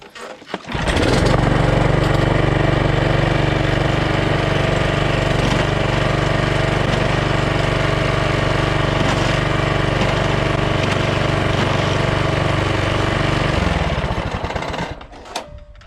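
A John Deere JX75 walk-behind push mower's engine starts and runs steadily and loudly for over ten seconds at close range, then cuts off, with no talking over it.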